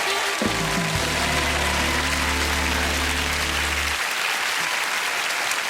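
A television talent show's studio audience keeps up steady applause throughout, with a low sustained musical tone sounding underneath for the first few seconds before it drops away.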